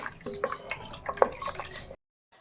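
Water splashes and trickles into a pressure cooker in short, uneven pours while making chicken salna, close by, then stops abruptly into silence.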